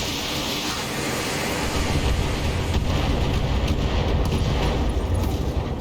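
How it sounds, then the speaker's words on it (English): In the BattleTech video game, an AC-20 ammo explosion erupts as a dense, roaring rumble of blasts that swells and stays loud for several seconds, with crackling bursts throughout. "Ooh, an AC-20 ammo explosion."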